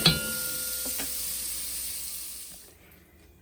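Onions sauteing in a pan for country baked beans, a steady close sizzle and hiss that fades out toward the end, with no talk.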